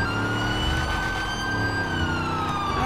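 A police car siren in GTA 5 roleplay wails continuously and loudly, its steady rising and falling tone running over engine and road rumble throughout.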